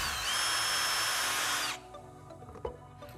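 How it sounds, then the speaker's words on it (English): A power drill bores a final 1/4 inch hole for a homemade directional antenna, a loud steady whine that runs for over a second and a half and then stops, followed by a few faint clicks and a knock. "So we got one last hole to drill."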